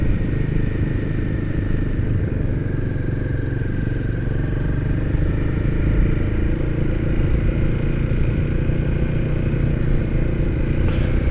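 A motorcycle rides steadily along a potholed road. The engine drone and wind noise stay constant and close, with no talking.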